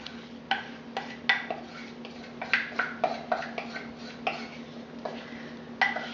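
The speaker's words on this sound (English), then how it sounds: "take just a wooden spoon or a spatula and stir together all of the dry ingredients till they're well mixed" A wooden spoon stirs dry granola ingredients in a bowl, giving quiet, irregular clinks and scrapes against the bowl's side over a steady low hum, with no talking.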